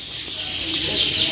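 Young canaries from different crossbreeds chirp and twitter steadily, close and fairly loud, with bright high trills running through the whole short stretch.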